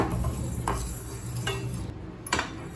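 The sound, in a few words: fenugreek seeds being roasted and stirred in a pan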